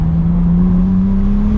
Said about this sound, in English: you can listen to that monumentally powerful W12.